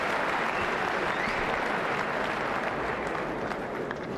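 A boxing crowd at a heavyweight bout claps steadily after a close round, dense sustained applause filling the hall at an even level throughout, with a faint murmur of voices beneath it.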